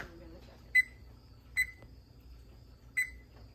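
An oven timer gives three short, clear electronic beeps spaced about a second apart, over a faint low household hum with no talking.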